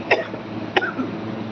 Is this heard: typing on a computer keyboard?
no